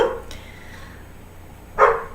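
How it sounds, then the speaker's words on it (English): Two brief dog barks sound at a distance in a quiet room, one at the start and a louder one near the end, with near silence between them. "my dogs are barking at the man."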